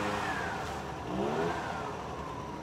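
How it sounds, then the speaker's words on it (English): A car engine revs steadily while backing up, a continuous mid-pitched drone with a slight swell partway through, with no voices. "I'm looking at my son backing up my car like that."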